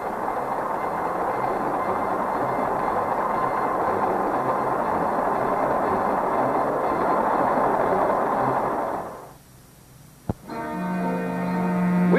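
A train rumbles steadily along the rails for several seconds, then the noise cuts out abruptly, followed by a sharp click and a low steady hum.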